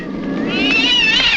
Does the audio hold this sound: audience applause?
no